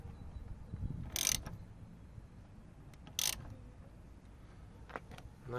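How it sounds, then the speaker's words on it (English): A T45 Torx driver tightens a fastener in a car interior, giving two short, sharp ratcheting bursts a couple of seconds apart, then a fainter click, quiet and close. "And now with the T45, we need to tighten this."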